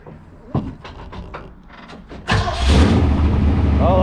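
A 1975 Volkswagen bus engine cranks and catches about midway, then runs on loudly and steadily close by, after a stretch of quieter clunks and movement; people talk faintly in the background.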